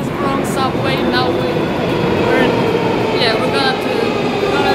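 A subway train in Russia rides along with a loud, steady rumble and roar of wheels on track, faint squealing tones rising and falling above it, and people talking under the din.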